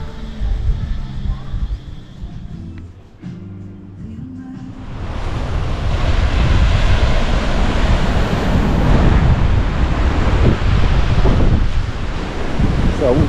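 Waves break on the beach at Thong Nai Pan, Koh Phangan, with a continuous rolling surf roar and wind buffeting the microphone, starting after a quieter opening.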